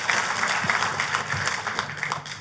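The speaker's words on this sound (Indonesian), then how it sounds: "Tepuk tangannya yang paling meriah buat Tuhan kita." A church congregation applauding during a sermon, a dense, steady wash of many hands clapping at moderate volume with no voices over it.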